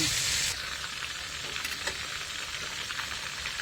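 Pla itu, a small Thai fish, frying unbattered in hot oil in a pan, giving a steady broadband sizzle that holds throughout, louder in the first half-second, with faint crackles and no talk.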